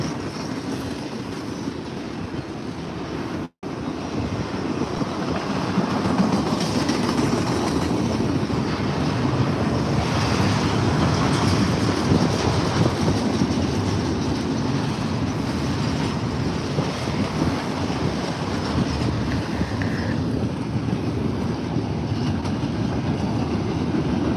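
A train rumbles steadily past nearby, a continuous loud roar of rail cars with faint clacking, lasting the whole stretch after a brief sharp click.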